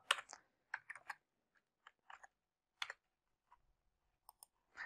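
Password typed on a computer keyboard: scattered clusters of light, close clicking keystrokes in irregular bursts with short pauses, no talk.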